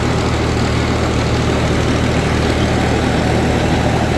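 Heavy tractor engine idles loud and close with a steady low rumble while unloading wheat from a silo bag, a constant drone with no talk.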